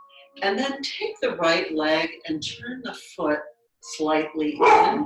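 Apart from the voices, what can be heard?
dog barking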